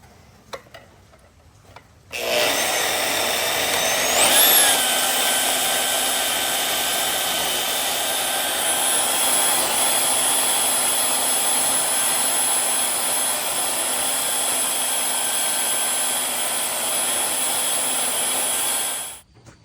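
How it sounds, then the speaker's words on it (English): A bandsaw cuts a traced metal piece for a truck-mounted crane build, starting after a short quiet moment with a loud, steady whining roar that holds unbroken for about seventeen seconds before cutting off, with no talking. "We'll trace that and then cut it with the bandsaw."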